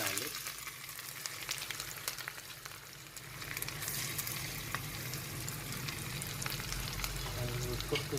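Ginger, garlic and curry leaves fry in a kadhi tempering, a steady close sizzle and crackle of hot oil that holds for the whole stretch and grows slightly louder near the end.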